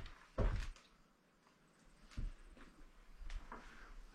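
An old door in a weathered prairie house is pulled open and pushed shut, a few quiet thumps and soft knocks spaced apart in a still room with no talking.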